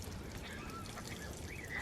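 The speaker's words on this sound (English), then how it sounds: "That's the bird coughing." A chicken in a backyard coop gives a faint, hoarse, cough-like honking call, quiet against low background noise.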